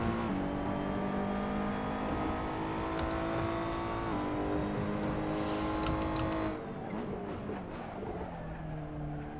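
A 455 GT2 race car in a racing video game revs hard with a steady, loud engine whine that steps through a couple of gear changes, then the note drops and settles to a lower drone. No one speaks.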